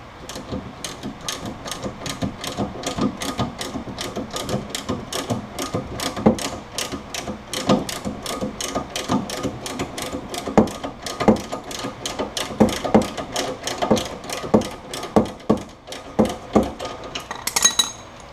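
A hand ratchet clicks in quick, regular strokes while loosening a bolt on the suspension of a 2006–2011 Honda Civic Si during a lowering-spring install, close and crisp for about eighteen seconds with slight variations in pace.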